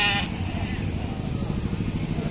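Sheep bleat continuously at a busy livestock market in Kediri, a dense, steady bleating chorus close by with a brief sharper call at the start.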